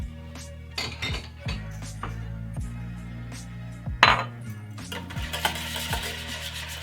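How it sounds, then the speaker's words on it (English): Salmon being stirred together with buffalo sauce in a bowl: repeated light clinks and scrapes of a utensil against the bowl, with a steady low tonal bed underneath and one sharper clatter midway. "Then we're going to mix that up."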